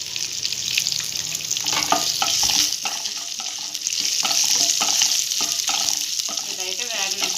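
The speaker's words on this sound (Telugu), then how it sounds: "ఇదైతే బాగా వేయించుకుందాం. ఇందులోనే కొంచెం అంతా కరివేపాకు అండి" Curry leaves fry in hot oil for nuvvula pachi pulusu with a loud, crackling sizzle that runs throughout, broken by repeated scrapes and clatters of a spoon stirring the pan, and no voices.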